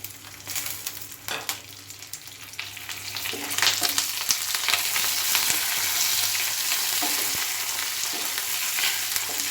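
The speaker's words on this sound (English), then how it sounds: "So now I am adding urad dal, chana dal, then curry leaves and chili," Urad dal, chana dal, curry leaves and green chili sautéing in hot oil for South Indian coconut rice, a steady loud sizzle with occasional stirring scrapes, building slightly and running alone without talk.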